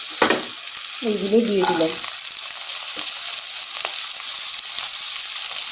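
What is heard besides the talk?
capsicum frying in hot oil or ghee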